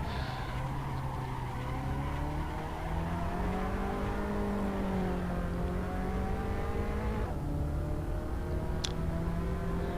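Race cars in the Assetto Corsa racing game scream past with steady high engine whine, pitch rising and falling through gear changes, loud and continuous with no talk.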